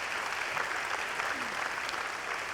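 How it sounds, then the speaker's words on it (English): Steady applause from a commencement audience honoring a university chamber orchestra, a dense, even clatter of clapping hands filling the hall at moderate distance without pause. "Let's give them a round of applause."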